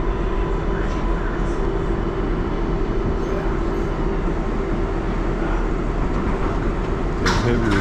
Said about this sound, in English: So this is the Flushing Main Street bound 7 local train.